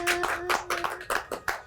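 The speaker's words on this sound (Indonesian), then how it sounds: "Tepuk tangan dong." A few people clap for guests on a talk show, with sharp, distinct claps in a quick, uneven rhythm, close and fairly loud, alone without talk.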